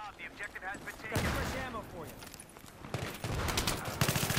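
Battlefield 3 gunfire, rapid bursts of automatic shots and a sustained fusillade, loud and close, mixed with someone talking and other game noise.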